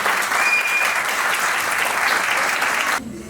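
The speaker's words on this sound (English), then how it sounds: "Clap for him." A student talk audience applauds a ninth-grade speaker with a full, steady round of clapping that cuts off abruptly near the end.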